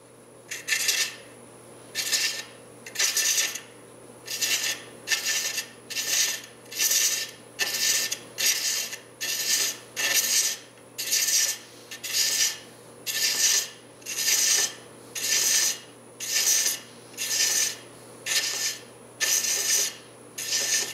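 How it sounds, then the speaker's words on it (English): A wood lathe chasing male threads on a turned piece, giving a steady run of regular rasping strokes, about one per second, over the hum of the spinning lathe, close and fairly loud with no talk. "So I'm going to turn my lathe back on and complete my threads."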